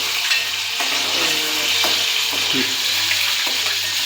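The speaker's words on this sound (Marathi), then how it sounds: "पनीर आपण तेलात आता फ्राय करून घेत" Cubes of paneer frying in hot oil for palak paneer, a steady close sizzle with a few stirring clinks and scrapes throughout.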